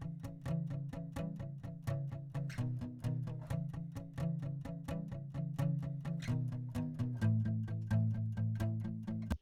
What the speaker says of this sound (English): if I show you what both guitars sounded like pre anything, it would sound like this.